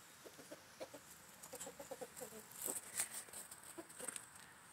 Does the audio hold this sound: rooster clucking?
yes